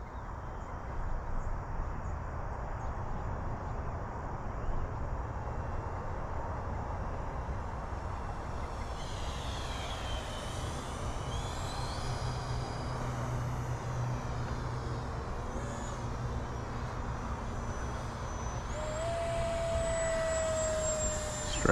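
Hobby King Flycat V2 RC electric ducted fan plane making a slow pass: a steady, faint whining whoosh heard from a distance, rising and shifting in pitch as it goes by, with no one speaking.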